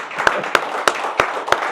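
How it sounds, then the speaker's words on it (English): Audience applause at a Chamber of Commerce legislative recap, with steady clapping and several sharp claps standing out at an even rhythm over a short stretch. "Applause, please."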